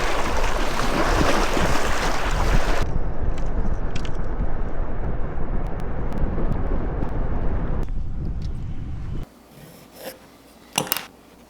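Wind roars loudly and steadily across the water at a fishing spot, a broad buffeting rush that drops away abruptly to near quiet, followed by a few soft knocks.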